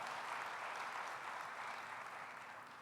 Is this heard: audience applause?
yes